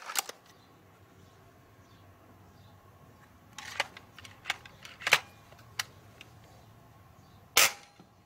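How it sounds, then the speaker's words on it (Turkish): Several sharp, close air rifle shots from a Hatsan Striker Edge firing JSP Exact Jumbo Heavy pellets, spaced irregularly over a quiet background, the loudest crack near the end. "Yine 5 atış."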